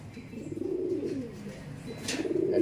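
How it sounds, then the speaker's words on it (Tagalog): Racing pigeons coo softly inside a loft, low throaty rolling calls repeating close by, with a brief rustle of movement among the birds. "Dalawa na ibon natin sa PUF."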